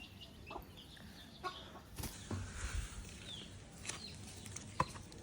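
Chickens cluck softly nearby in short, scattered bursts over a quiet outdoor background, with no talking.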